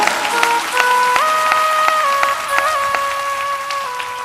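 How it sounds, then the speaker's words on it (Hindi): An audience at a Hindu religious discourse on the Bhagavat Katha claps in sharp, evenly spaced beats, heard alongside sustained melodic tones from music. "ताली ऐसी मत बजा, थोड़ी मजा की बजा।"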